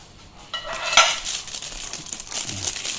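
Stainless steel tongs from a ZAGIO camping gas stove set clatter and scrape as they are handled, a sudden metallic clink followed by lighter rattling and rustling close by.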